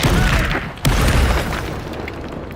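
A Confringo spell blast in Hogwarts Legacy, a sharp loud boom with a crackling burst that trails off over a couple of seconds of rumbling debris.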